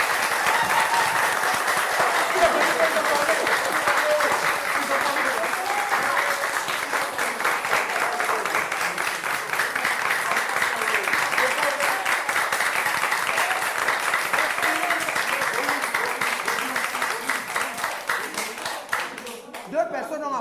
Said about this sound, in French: Vous applaudissez très fort.